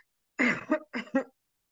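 A voice acts out coughing in a Finnish lesson on illness words: four short, close, throaty coughs in two quick pairs with no other sound around them.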